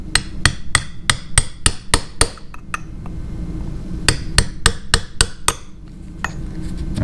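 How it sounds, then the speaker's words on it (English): A hammer strikes a chisel to knock off the clutch locking tab on a rusted Honda XL600R, a run of sharp metallic blows, then a pause and a second run, loud and close. "I'm going to be taking the clutch off, and to do that I'm going to use this chisel."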